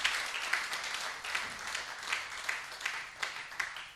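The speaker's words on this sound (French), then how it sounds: "je demande qu'on applaudisse encore une fois de plus" An audience at a International Women's Day celebration claps steadily, a fairly distant wash of many hands with small recurring swells in intensity.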